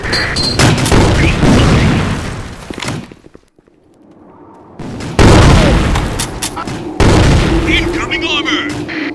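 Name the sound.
grenade explosion and gunfire in a video game (Sandstorm)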